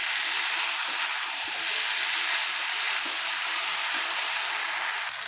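Green jackfruit and prawns sauté in a pan with a steady, bright sizzling hiss that holds evenly throughout, close and fairly loud with no voices over it.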